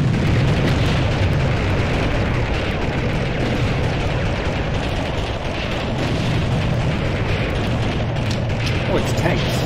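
Tank explosions in Army Men 3D on PlayStation, a dense, unbroken roar of loud blasts and rumbling booms layered together for several seconds, with a voice talking faintly underneath.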